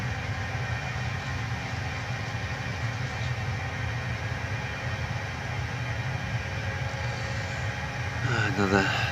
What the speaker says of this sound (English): Another Scotrail HST.